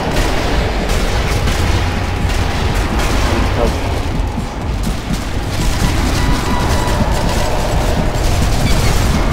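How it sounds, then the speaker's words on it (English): Sniper Elite Nazi Zombies firefight with dense, continuous gunfire and booming blasts, loud and unbroken throughout, with some shouting mixed in. "Machine gun."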